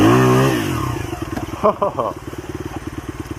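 A small motorcycle on a dirt trail revs up for a wheelie, the engine rising in pitch and then chugging in rapid pulses, close and loud, with a brief exclamation from a rider.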